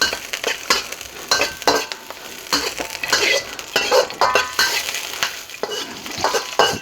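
Onions hit a hot pan and sizzle while a spoon scrapes and stirs them in repeated loud, close strokes over a crackling frying hiss.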